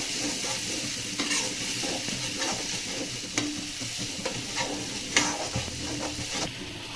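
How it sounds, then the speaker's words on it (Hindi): Chili, tomato and coriander paste cooked with sattu, frying and being stirred in a pan, a steady close sizzle broken by scraping strokes of the spoon. "सारे पेस्टों को इस तरीके से चलाते हुए भून लेना है"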